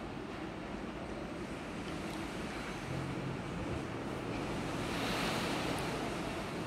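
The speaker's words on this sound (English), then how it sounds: "It's really, really windy. I don't know if you can hear that sound." Strong wind roars across the deck of a very large cruise ship far out in the middle of the ocean, a constant broadband rush mixed with surging surf, buffeting the microphone, with no voices.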